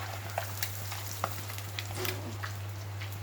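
Fish pieces deep frying in oil, a steady crackling sizzle with scattered pops over a constant low electrical hum.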